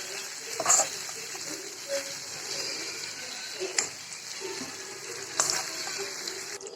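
Chicken pieces cooking in a pan over a medium flame give a steady, close sizzle with faint crackles and a few louder pops.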